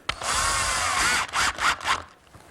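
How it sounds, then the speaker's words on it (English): A power drill drives screws through wood to fix a jig to a table saw miter gauge, one long whirring run followed by several short pulses, loud and close. "And now a couple screws to attach the jig to the miter gauge."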